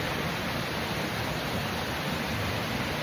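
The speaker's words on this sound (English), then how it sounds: "This water is beautiful. It's really loud, big fall." Loud, steady roar of a big waterfall at Grayson Highlands, Virginia, a dense unbroken wash of rushing water heard up close with no voices.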